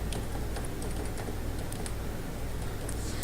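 Rapid, crisp keystrokes on a computer keyboard while entering a passport number into an online Pakistan embassy appointment form, close and continuous with no talking.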